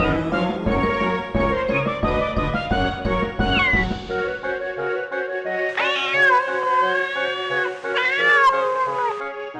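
A cat meows repeatedly in long, wavering, rising and falling cries over tonal music, the calls growing louder and more drawn out toward the end.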